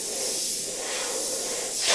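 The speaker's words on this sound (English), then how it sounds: "I'm currently spraying at about 30 to 40 psi" An airbrush sprays paint at 30 to 40 psi, giving a steady close airy hiss that lasts the whole two seconds and ends in a brief stronger burst.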